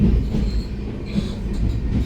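Steady low rumble and rattling wheel noise from inside a moving passenger train near Mysuru, continuous and close with faint squealing above, no talk.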